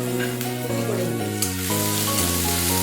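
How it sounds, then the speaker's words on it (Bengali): Chopped onion fries in a pan for an egg posto curry, giving a steady, close sizzle throughout, with a tonal melodic backdrop running alongside. "একটু লাল করে ভেজে নিচ্ছি কুচিটা"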